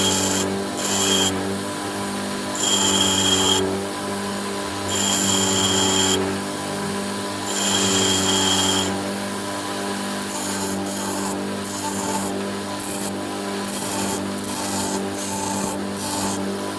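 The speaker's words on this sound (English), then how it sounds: "head back outside and start grinding this off" A power grinder works a Spyderco knife blade down to shape, giving a loud, continuous whine with rhythmic surges as it bears on the steel, close and with no voices.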